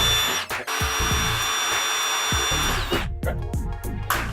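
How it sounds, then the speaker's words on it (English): A power drill re-drilling holes during a bathroom remodel whirs loudly and steadily, then gives several short bursts as it revs up and stops, close by. "we're back with the drill. Re-drill the holes."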